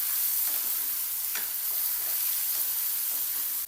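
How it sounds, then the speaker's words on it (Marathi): Masala-stuffed tomatoes with coriander are sautéed in a pan for a gravy, giving a steady, loud sizzle with soft stirring scrapes throughout. "परतून घ्यायचं।"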